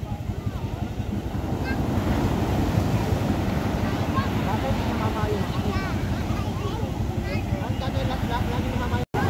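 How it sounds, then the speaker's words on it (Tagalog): Loud, continuous ocean surf with churning water around boats and wind buffeting the microphone; faint voices are mixed in now and then. "Ayan na, alon."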